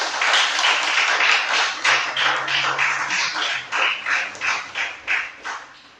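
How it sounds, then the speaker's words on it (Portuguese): A church congregation applauds during a service, loud clapping that settles into steady rhythmic claps in regular bursts, fading toward the end. "Vamos aplaudir o Senhor."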